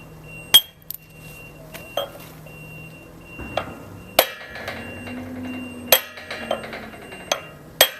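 Hammer blows on granite while rock-facing a stone edge, roughly eight sharp metallic cracks spaced about a second apart, close and loud, with ringing clinks between strikes and no talk.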